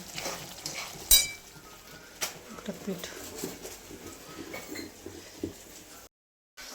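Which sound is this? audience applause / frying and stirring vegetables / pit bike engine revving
frying and stirring vegetables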